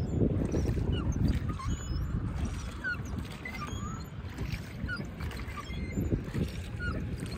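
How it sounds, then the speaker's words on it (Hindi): A boat glides across Nainital lake, with steady water rushing and churning close by and faint chirps and distant sounds carrying over the surface. "तेज चलती है बोट, दूर से दिखने में लगता है स्लो चल रही है, पर तेज चलती है बोट"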